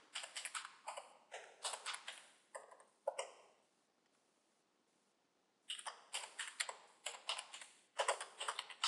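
Close computer keyboard typing in quick clattering bursts of keystrokes, a silent pause of a couple of seconds in the middle, then another flurry of clicks.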